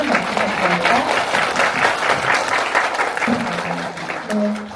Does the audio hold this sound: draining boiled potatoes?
no